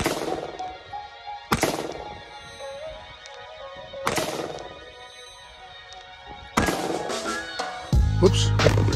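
Gunfire at an outdoor range while a Gowutar A20 budget red dot sight is tested: three loud, sharp, close reports spaced a few seconds apart, each with a brief decaying echo, followed by rustling handling noise.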